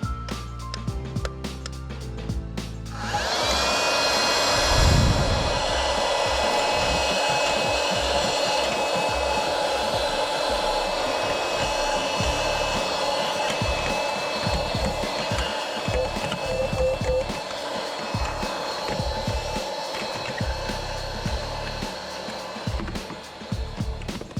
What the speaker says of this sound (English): I got this mini little vacuum here.